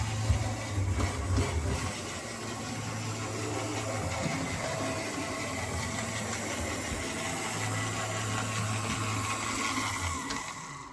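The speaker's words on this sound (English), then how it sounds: "that is a locomotive which is not happy" An N2 model railway locomotive running roughly on a layout, a low uneven motor hum and rail rumble that surges and sags over a hissy background, with no talking.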